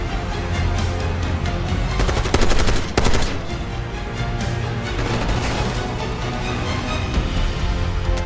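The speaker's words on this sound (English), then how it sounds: "Machine gunner!" Sustained automatic gunfire from a machine gunner in the Call of Duty Black Ops 6 campaign, dense and loud throughout with rapid overlapping bursts and a sharp blast near the three-second mark.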